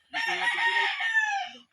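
A rooster at a chicken farm in Quirino, Isabela lets out a single long, close crow, loud and clear with no other sound around it.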